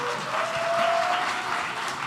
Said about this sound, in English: So big applause for Man-Lai